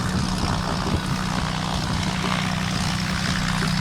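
A single-engine Cessna takes off at Williston Airport, its propeller engine droning loud and steady throughout with a strong low rumble and no break.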